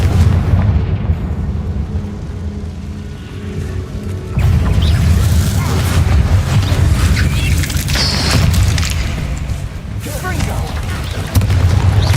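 A Confringo fire spell exploding in Hogwarts Legacy, with deep booming blasts that hit hard at several points over a continuous rumbling game backdrop.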